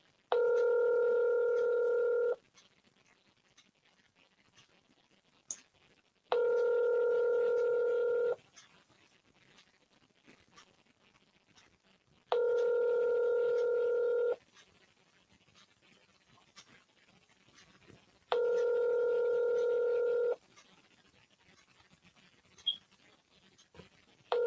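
Telephone ringback tone of an outgoing call: four steady two-second rings separated by pauses of about four seconds, clear and moderately loud over faint background noise.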